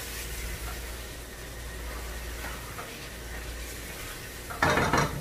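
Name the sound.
mixing fried kababs in a pot with a spoon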